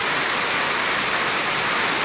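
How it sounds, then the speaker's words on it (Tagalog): Heavy rain pours down hard and close, a loud, dense, unbroken roar of drops striking surfaces with no pauses and no voices. "Lakas ng ulan."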